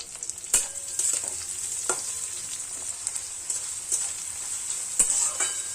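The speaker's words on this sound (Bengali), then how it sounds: "পেঁয়াজটা হালকা ভাজা ভাজা করবো।" Chopped onion sizzles steadily in a pan while it fries, with a few distinct scraping stirs breaking in at intervals; no voices.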